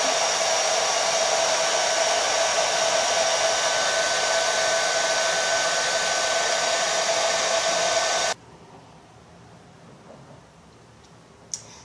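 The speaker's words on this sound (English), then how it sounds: "I'm just going to continue to diffuse it for a few more minutes to get it sort of a little bit more dry." Hair dryer fitted with a diffuser blows steadily and loudly while drying curly hair, a constant whooshing roar for about eight seconds that then cuts off abruptly, leaving quiet room tone and a faint click.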